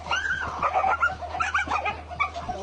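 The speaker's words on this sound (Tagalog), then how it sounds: "Nag-aaway pa yung dalawang aso." Two dogs fighting outdoors at a solar power installation site, a tangle of close growls, yips and whimpering barks in rapid irregular bursts over a steady low hum.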